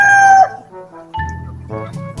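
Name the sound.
rooster crowing among fighting cocks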